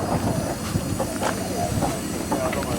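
Ravenglass and Eskdale Railway train being turned round for its return run, a steady hiss of steam with light rail clatter and faint background voices.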